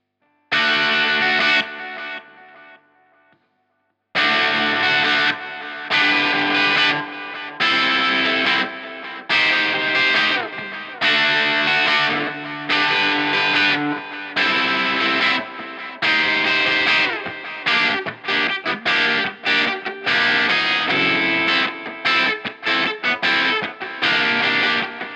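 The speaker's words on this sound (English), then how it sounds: "Bit of reverb." Electric guitar with reverb, opening on a fading chord and then driving distorted strummed phrases in repeated bursts, loud and close without any voice.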